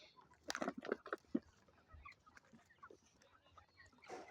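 Free-range native hens cluck outdoors in a short burst of calls while foraging, then quieter scattered clucks and outdoor rustling follow, with a fresh squawk near the end.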